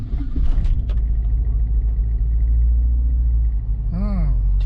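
A car engine idles steadily after being started on a battery treated with a battery restorer fluid, giving a loud, continuous low rumble throughout, with a brief voice and a short whistling tone near the end.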